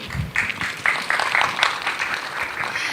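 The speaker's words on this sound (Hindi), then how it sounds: "तो एक बार फिर से जोरदार तालियां हो जाए हमारे दुर्जे के लिए।" An audience at the Arunachal Idol Season 7 local-round singing competition applauds a singer, a steady wash of clapping that swells after the first half second and carries evenly to the end, with no voices.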